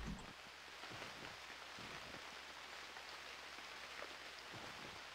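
Rain falls steadily in the survival game Unreal World, a faint, even hiss with soft scattered drops, no voices.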